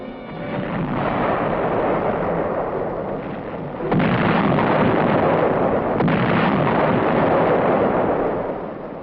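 Floating artillery firing in Korean War newsreel footage, heard as a continuous, muffled roar of heavy booms on a thin, band-limited old recording, growing louder in the middle and fading toward the end.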